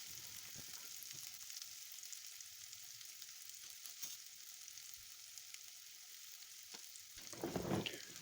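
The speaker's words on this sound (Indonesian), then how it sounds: "Kita tumis sampai layu. Jangan lupa diaduk terus dioseng ya teman-teman." Sliced red chili peppers are stir-fried in a pan: a steady, fairly quiet sizzle runs throughout, with occasional clicks of stirring and a louder burst of sizzling near the end. No one speaks.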